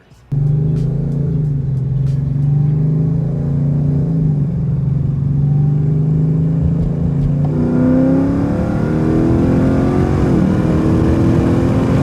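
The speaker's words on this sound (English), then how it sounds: "there's a big difference in how the car was accelerating" A car with a tuned transmission, shifted by paddle shifters, roars up sharply and climbs in pitch, dropping briefly at each gear change before pulling hard again, loud and close.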